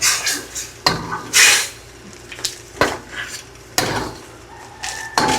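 A utensil stirs fried milkfish in tausi sauce in a metal pan, giving intermittent scraping clanks and knocks with quiet gaps between, close and fairly loud, without talk.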